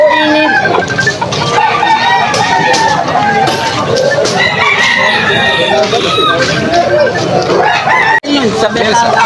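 A stag gamecock crows amid clucking roosters and chickens at a busy Sunday livestock market in Malolos, Bulacan, with steady crowd babble and voices talking throughout the clip.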